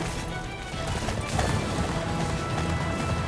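A horse gallops at speed in the Attack on Titan video game, its hoofbeats pounding in a fast, busy rhythm amid loud, continuous game noise.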